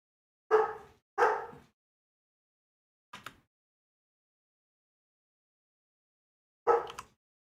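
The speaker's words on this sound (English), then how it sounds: "Looks like the dogs are barking." Dogs in the Minecraft game 2b2t give a few sharp barks, two close together at the start, a faint short one, then a final bark after a pause, with silence between.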